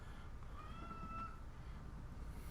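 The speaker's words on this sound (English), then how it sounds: "What was that? A cat." A cat meows once, faint and somewhat distant, a short rising cry against a quiet background hum in a room.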